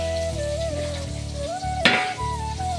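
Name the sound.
fish frying in a pan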